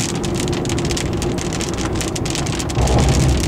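Heavy rain drums hard and steadily on a moving car, a dense loud patter over road rumble that swells near the end.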